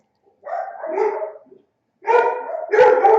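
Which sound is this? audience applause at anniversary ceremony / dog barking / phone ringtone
dog barking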